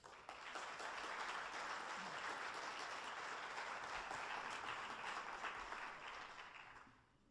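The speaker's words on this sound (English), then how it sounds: "Will you please join me in a loud, robust round of applause welcoming to this lectern Dr. Peter Ashe, Dr. Robin Fiveish." A lecture audience applauds speakers stepping up to the lectern: a sustained, even round of clapping that sounds somewhat distant, holds steady for several seconds, then tapers off at the end.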